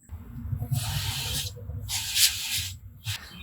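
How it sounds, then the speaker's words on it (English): Several short bursts of hissing spray onto chickens in a smoker running at 250 degrees, each lasting around half a second, over a low background rumble. "So we're gonna hit them with some spray just to kind of help that skin crisp up"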